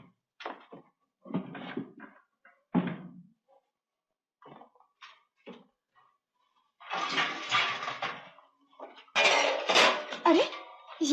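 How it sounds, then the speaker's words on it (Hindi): Metal pots and utensils are dragged and clattered across the floor in a 1953 Indian film scene, a loud, irregular run of scraping, clanking bursts separated by brief pauses. "सारे बर्तन क्यों घसीट रहे हो?"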